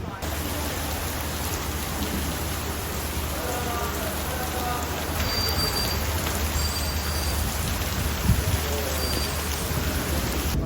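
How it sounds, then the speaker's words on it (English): Steady heavy rain pours down outdoors in Istanbul, a continuous loud hiss of drops hitting surfaces, with no one talking. "Rain was definitely not forecast."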